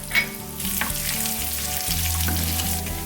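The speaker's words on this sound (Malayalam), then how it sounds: "നാളികേരക്കൊത്ത് ചേർത്ത് നന്നായിട്ടൊന്ന് വറുത്തെടുക്കാം" Coconut pieces sizzle in hot ghee in a pan, a steady close crackling fry with occasional stirring and no voices.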